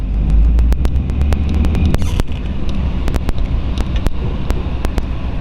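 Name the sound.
1938 Ford sedan with flathead V8 driving, shifting gears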